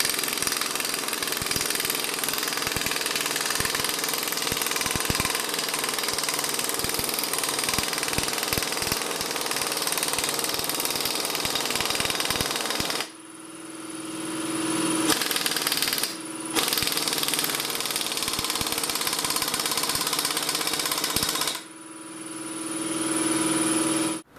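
A pneumatic impact wrench, run off an air compressor turned down to 100 psi, works on a Chrysler/Dodge AAM 9.25 front differential. It makes a loud, close, rattling hammer with abrupt stops and restarts.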